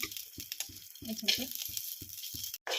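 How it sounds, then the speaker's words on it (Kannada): Garlic fries in a pan for red chilli chutney, giving a steady, close sizzling hiss. A voice talks in short rhythmic phrases underneath. "ಬೆಳ್ಳುಳ್ಳಿ ಹುರ್ಕೊಂಡ್ಬಿಡೋದು"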